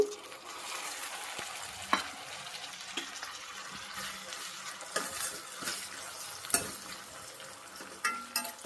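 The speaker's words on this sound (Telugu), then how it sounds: "టమాటా టూ కట్ చేసి వేస్తున్నాను సన్నగా పల్లి ఆయిల్ కదా అందుకని నొరగొస్తుందండి" Thinly cut tomatoes fry in peanut oil in a pan, giving a moderate crackling sizzle broken by occasional sharp utensil clinks from stirring.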